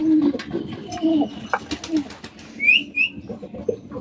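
Pigeons coo close by in a series of soft, low, rolling calls, with a couple of higher chirps and light rustling between them.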